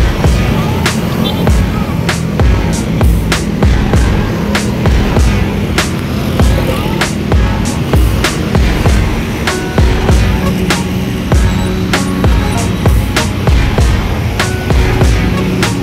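A Rosalia Indah bus entering a toll road gives a loud, rumbling exhaust roar close by, with repeated sharp clatters and knocks over the heavy engine drone.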